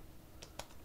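A few quick, faint key taps on a computer keyboard, two or three light clicks in under a second against a quiet room.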